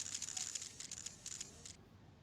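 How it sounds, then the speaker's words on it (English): Camera shutters fire in the game Chaos;Head Noah: a rapid string of faint, crisp clicks for about two seconds, then quiet. "The shutter sounds were following me."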